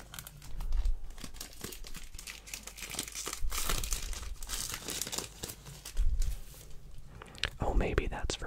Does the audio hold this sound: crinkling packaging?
yes